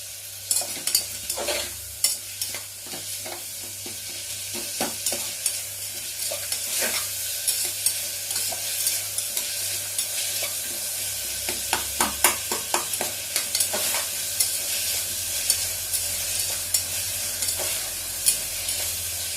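Tomatoes with salt sizzle steadily in a pan for a cowpea biryani, with repeated sharp scrapes and taps of a spoon as they are stirred over a constant frying hiss.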